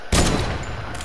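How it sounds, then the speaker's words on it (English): A loud burst of video-game gunfire opens abruptly and rings out into a sustained roar, with a second shot arriving right at the end. "Yeah, start shooting, Jamari, start shooting."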